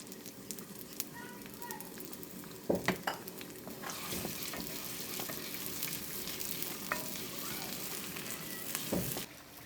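Chopped onion and garlic fry in mustard oil with a dense, steady sizzle, growing louder as stirring and clinks of a utensil on the pan break through, while a voice speaks faintly underneath.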